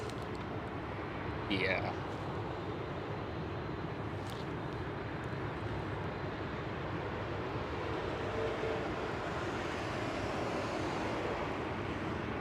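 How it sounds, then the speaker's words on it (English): An EasyJet Airbus A320 taxis at Schiphol airport, its jet engines a faint, steady distant drone, with a person speaking briefly over it. "There it is, EasyJet's A320?"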